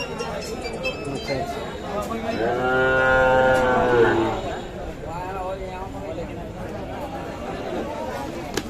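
A cow lets out a long, loud moo lasting about two seconds, with a fainter second call after, over a busy background of crowd chatter at a cattle market.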